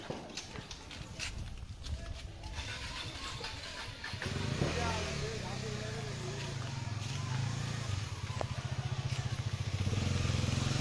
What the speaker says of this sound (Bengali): শত শত গাড়ি রাস্তা আটকা পড়েছে।